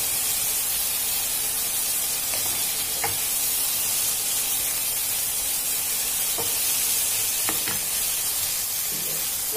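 Shrimp sizzles in fresh butter in a pan, a dense, even frying hiss with a few faint clicks and pops scattered through it.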